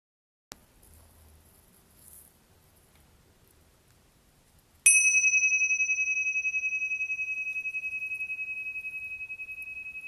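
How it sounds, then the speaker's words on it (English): After a faint tap and near silence, a single bell is struck, ringing out bright and clear with a long, slowly decaying shimmer. "at the sound of the bell, coming back to our shared space"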